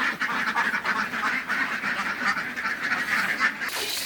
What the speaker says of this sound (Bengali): হাঁসের খামার দেখছেন আপনারা